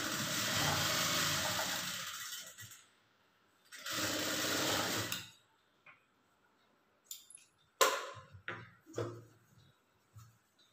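A sewing machine stitches a blouse seam in two steady, loud runs of about two and a half and one and a half seconds, followed by scattered clicks and handling knocks near the machine.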